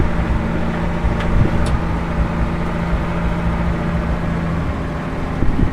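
Car engine running steadily as it pulls away in second gear in a backyard junkyard, a continuous low rumble throughout with no talking.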